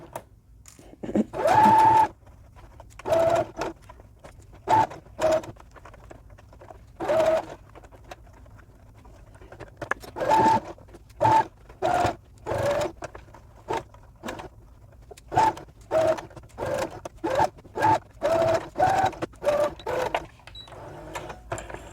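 A sewing machine stitches a small doll backpack in repeated short bursts of fast rhythmic whirring, close and clear, with brief pauses between runs and no talking.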